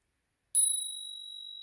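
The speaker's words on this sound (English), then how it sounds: "the bell actually works fantastic" A Spurcycle raw brass bicycle bell struck once, a sharp, loud, close ding that rings on as a clear, pure tone slowly fading, alone in silence.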